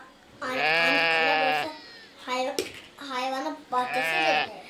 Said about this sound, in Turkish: Koyun sesi çok geliyor.